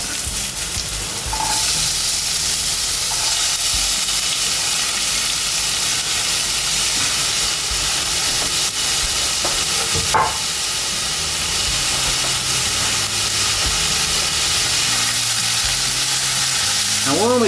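Onions fry in shimmering oil in a pan, giving a loud, continuous sizzle and hiss from close up, with occasional stirring scrapes and clinks.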